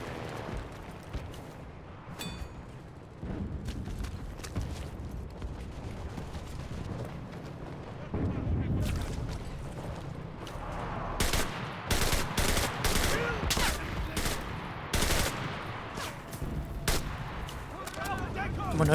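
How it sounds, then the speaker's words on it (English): Artillery and gunfire in the World War II shooter Enlisted: booming shell blasts and cracking shots, with a rapid burst of loud impacts toward the end, as voices shout over the battle. "Artillerie! Feuer auf den Platz!"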